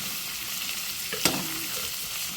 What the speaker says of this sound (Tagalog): Isa lang po natin sa mantika yung ating sitaw para po crispy pa rin po siya kung naluto